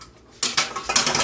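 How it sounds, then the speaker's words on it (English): A spoon stirs an egg into turkey dressing in a bowl, giving close, bright clinking and scraping strokes in quick bursts after a brief quiet start. "Okay, stir in the egg."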